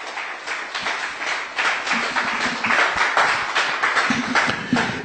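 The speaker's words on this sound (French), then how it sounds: "Applaudissons Jésus." A church congregation applauding together, a steady wash of dense clapping that holds throughout at even strength, with no voices rising above it.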